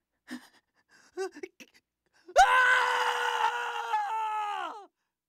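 A voice actor screaming for the English dub of the anime Buso Renkin: a few short grunts and breaths, then one loud, sustained, strained scream that holds for about two seconds before cutting off.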